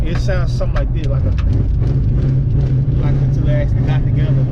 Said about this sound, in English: That's what it used to sound like with the exhaust leaking a little bit.